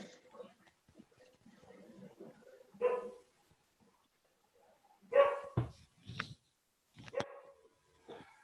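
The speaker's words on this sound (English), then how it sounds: "That's Bell Dog." A dog barks in a few scattered bursts, fairly close but faint, with quiet gaps between them and some speech mixed in around the barks.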